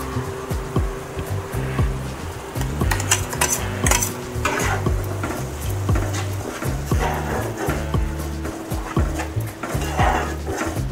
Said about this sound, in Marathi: यालाही छान तेल सुटेपर्यंत परतून घ्यायचं आहे